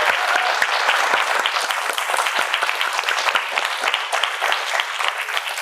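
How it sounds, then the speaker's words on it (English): An audience at a candidate forum gives sustained applause for the election candidates, a dense, even patter of many hands with no talking over it. "How about a round of applause for our candidates?"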